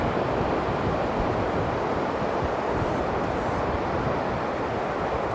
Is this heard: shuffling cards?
no